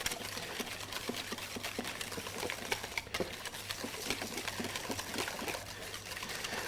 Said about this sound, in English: you want to whisk this until the sugar dissolves in that mixture